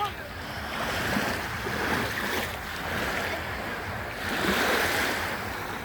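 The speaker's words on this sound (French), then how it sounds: "Il va y avoir une grosse vague" Surf breaking on a beach on a late-summer weekend, a steady wash of waves swelling and falling in loudness with wind noise over the microphone, close and continuous with a faint voice in the background.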